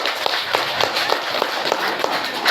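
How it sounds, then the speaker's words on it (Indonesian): An outdoor gathering in Lubuk Kakap breaks into steady rhythmic clapping, a crowd's hands beating in quick, even pulses over a bright, airy wash of noise. "Tepuk tangan dulu."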